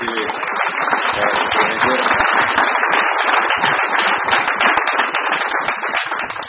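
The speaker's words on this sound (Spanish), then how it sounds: "también a él le vamos a pedir un aplauso" An audience at a Peruvian government forum on illicit drug control applauds a congressman, with steady, dense clapping close by that goes on without a break.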